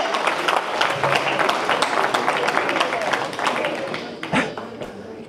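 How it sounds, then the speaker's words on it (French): A conference audience applauds, a thick, continuous patter of many hands mixed with crowd noise and speech, fading slightly toward the end. "Applaudis pour lui."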